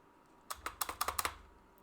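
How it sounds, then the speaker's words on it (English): Computer keyboard with a sticking spacebar, a quick burst of about eight crisp keystrokes in a row, close and fairly quiet, with no voices. "I'm just noticing my keyboard sounds a bit loud"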